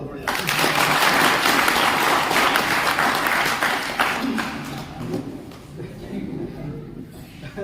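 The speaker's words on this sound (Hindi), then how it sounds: "करोड़पति बना दिया, तालियां नहीं बजाओ" Audience applause at a Logicpay24 business presentation, a dense burst of clapping that fades gradually over several seconds, with speech and crowd murmur rising as it dies down.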